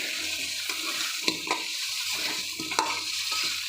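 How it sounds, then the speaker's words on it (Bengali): Chopped tomatoes going into chickpeas sautéing in a pan, a steady close sizzle with a few soft clacks and stirring scrapes, no speech. "এই পর্যায়ে আমি এর মধ্যে কিছু কাটা টমেটো দিব।"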